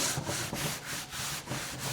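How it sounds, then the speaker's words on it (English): Scouring pad rubbed back and forth over stained wood on a 1-1/2" scale 7.5" gauge wooden caboose to lift off stain, a steady close-up scrubbing with rhythmic strokes about every half second and no talking. "I use a little like Scotch-Brite 3M type little scrubbing pad"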